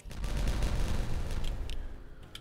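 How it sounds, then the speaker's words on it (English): Structures are detonated in the beaver city-building game Timberborn, setting off a dense rumbling burst of explosions that tapers into a few sharp, scattered cracks. "But I am going to detonate all this stuff."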